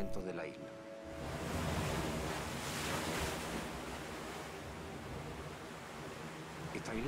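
Ocean surf rolls steadily onto an island shore in the middle of the ocean, a continuous broad wash of waves with wind buffeting the microphone throughout.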